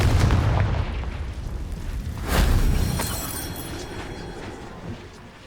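A Confringo fire spell explodes in the video game Hogwarts Legacy, a loud rumbling blast with a second boom midway that fades into a decaying roar, heard without talking.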